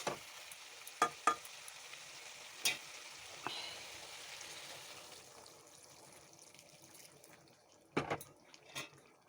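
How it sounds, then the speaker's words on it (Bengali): Hot water hits sautéed vegetables and spices in a pan for a koi fish curry with vegetable stems, giving a steady soft sizzle broken by a few sharp clinks and splashes, with a louder burst near the end. "এখন দিয়ে দেবো গরম জল।"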